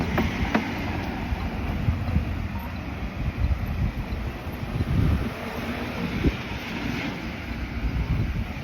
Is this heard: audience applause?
no